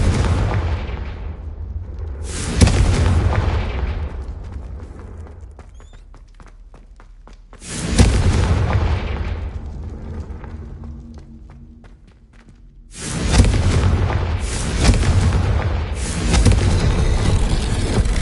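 Confringo fire spell explosions in the Hogwarts Legacy video game: three loud, booming blasts spaced several seconds apart, each decaying into rumble, with lighter thuds and footsteps in between.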